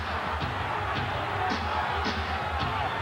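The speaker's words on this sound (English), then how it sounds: "The moaning and the groaning in the crowd is the prevalent noise right now." A basketball arena crowd at a 1994 Knicks at SuperSonics game in Seattle keeps up a low, broad murmur of groans and moans, steady and diffuse with a few faint higher shouts rising through it.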